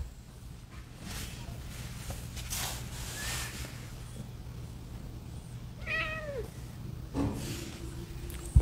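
Faint, high, thin mewing from newborn black kittens comes through a couple of short calls amid soft rustling and steady low background hum, close but quiet.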